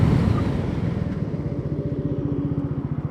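A Bajaj Pulsar NS400Z motorcycle decelerates hard during a sport-mode braking test from around 75, its engine rumble loud and close, fading into a pulsing low throb as speed drops, with no talk.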